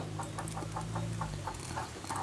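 A broody hen sitting on her eggs makes a steady series of soft, short clucks at a regular rhythm, close by, with a low background hum and no voices.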